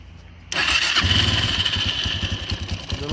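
Quad bike, a 400 LTZ, starting up after half a second of near silence: the engine catches abruptly and settles into a loud, close, throbbing idle that pulses unevenly, with no voices over it.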